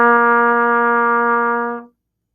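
A trumpet holds a low open C with no valves pressed, one steady brassy tone lasting nearly two seconds before cutting off cleanly, played alone and close.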